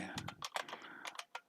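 Keystrokes on a computer keyboard while entering address details into a form, a quick irregular run of close, crisp taps with short pauses, alone with no talking.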